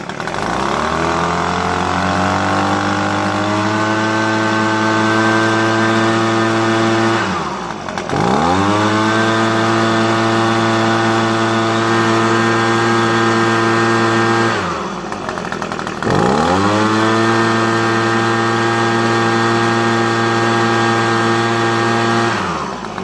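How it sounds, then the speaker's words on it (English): An Echo PB250 leaf blower engine runs steadily at a high idle, a loud, close, buzzing two-stroke drone with strong harmonics that dips briefly twice as the throttle drops and recovers, with no talking. "And so I'll start it up now and show you. So it idles great when you start it"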